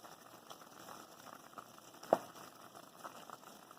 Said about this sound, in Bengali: একবার ফুটিয়ে নিব।